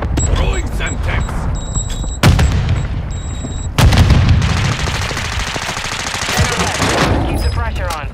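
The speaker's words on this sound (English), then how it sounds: "Tossing sticky grenade!" Video game gunfire crackles in rapid bursts, broken by two heavy booms from a sticky Semtex grenade blast, loud and close, with voices calling out over the fighting.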